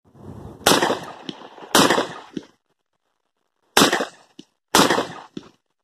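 Micro Draco pistol chambered for rifle rounds fires four loud, sharp shots outdoors, two in quick succession, a pause, then two more, each with a brief ringing echo.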